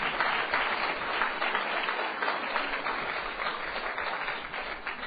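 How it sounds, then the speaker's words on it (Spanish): An audience at a lecture on church history applauds a participant named Yosef, dense steady clapping filling the whole stretch without pause. "Un aplauso a Yosef."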